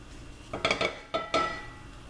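A cooking pot handled in a home kitchen while glazing a pineapple honey ham, giving a few quiet metallic clinks and knocks as it is set down over a burner, close by with no talk.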